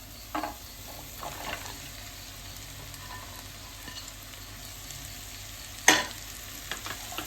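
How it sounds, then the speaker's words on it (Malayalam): Cut okra (ladies finger) tossed into a pan of frying, melting tomato and stirred, a soft steady sizzle with faint scraping and a sharper clatter of the spoon near the end, no voices. "ഇനി നമുക്ക് വെണ്ടക്കായ കട്ട് ചെയ്ത് ഇടാം"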